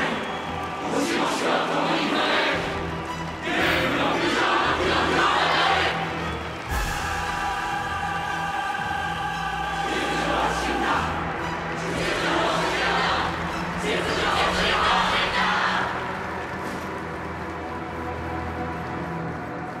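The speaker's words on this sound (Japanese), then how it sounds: "歓声と賛歌が一斉に響き渡る" A crowd cheers in rising and falling waves in Honkai: Star Rail, with sustained sung tones carried through the roar and a steady low rumble beneath.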